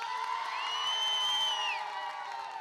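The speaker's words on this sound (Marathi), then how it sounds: "टाळ्यांचा शिट्ट्यांचा गजर ऐकायचंय का तुम्हाला" A crowd at a local cricket semi-final near Karad, Maharashtra, cheers with whistles and whoops, a steady, moderately loud roar of spectators that carries throughout.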